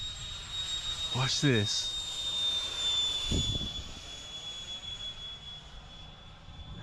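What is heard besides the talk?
FliteTest Flerken RC jet model flying, jet-like sound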